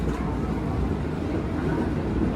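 A commuter train pulls in at a platform of Tanah Abang station, a steady low rumble and rolling drone filling the space at moderate loudness, with no voices over it.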